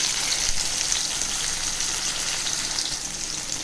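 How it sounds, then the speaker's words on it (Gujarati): Boiled potato pieces frying with cumin seeds in hot oil, a continuous bright, hissing sizzle, close and steady throughout with no talk. "જીરું તતડે એટલે આપણે બાફેલા બટેટાના પીસ કર્યા છે તે નાખીશું"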